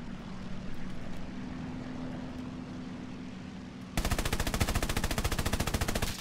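Machine gun fire from the SBD-3 Dauntless dive bomber in War Thunder breaks out partway through as a fast, loud, evenly pulsing stream of shots over a steady aircraft engine drone.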